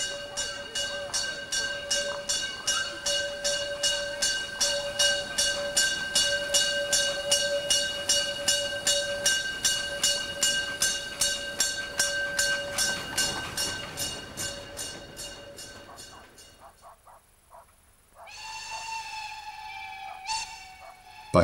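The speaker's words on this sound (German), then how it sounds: "Bei herrlichstem Herbstwetter konnten die Züge des Molly wunderbar eingefangen werden." Molly narrow-gauge steam train near Bad Doberan and Heiligendamm on the Baltic coast, its rhythmic steady exhaust chuffs with a sustained whistle-like tone rolling past for most of the clip, then fading into quieter outdoor background with birdsong.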